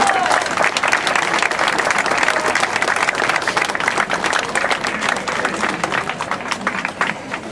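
Sustained audience applause at a Día del Músico celebration in Tampico, honoring a veteran musician; dense, steady clapping from a large crowd, loud and continuous throughout with no break.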